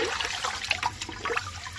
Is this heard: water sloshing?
yes